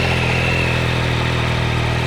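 Motorcycle engine with a stock exhaust, bought in Canada, running steadily at idle with a moderate, continuous rumble, close and alone.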